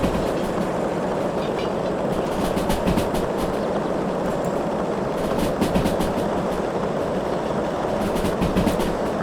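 An S282 steam locomotive in the train game Derail Valley runs at speed with the regulator fully open, producing a loud, steady rumble with rhythmic clickety-clack of wheels over rail joints.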